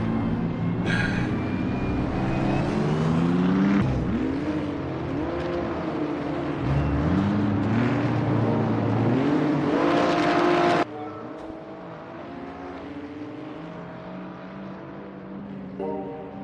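BMW race cars in Assetto Corsa EVO rev and accelerate near and loud. Engine notes rise and fall through gear changes, several cars overlap, and the sound drops sharply partway through to a quieter engine drone.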